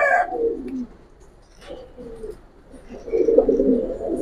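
Pigeons of the Pankhi and Silver breeds coo inside a loft, with soft, low throaty rolling calls in two close bursts separated by a quieter pause.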